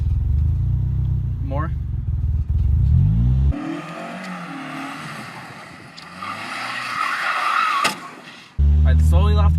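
A manual-transmission car engine idles and then revs up as the driver gives gas, a rough rising drone heard close, with people talking before and after the rev.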